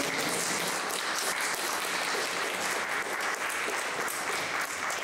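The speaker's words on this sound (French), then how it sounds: "Les applaudissements." An audience applauds at the close of a cosplay round-table panel at a Japan Party convention, even, sustained clapping of many hands with no break, heard at a moderate distance.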